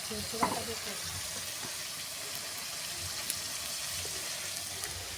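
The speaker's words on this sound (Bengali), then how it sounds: "বাসন বড়া ভাজা।" Leaf fritters frying in a pan on a home stove crackle in a soft, even sizzle with a few small clinks, fairly faint and continuous.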